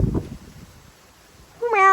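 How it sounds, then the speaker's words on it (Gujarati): A domestic cat meows once near the end with a clear harmonic cry, after a faint low rumble with no voices. "અને અમારો બિલાડો જો કેવો મ્યાઉ મ્યાઉ કર્યો છે."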